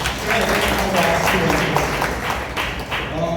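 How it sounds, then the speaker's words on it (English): An audience at a child psychology session breaks into steady applause, the clapping dense and continuous throughout, with voices talking over it. "Let's give a huge round of applause to Shreya."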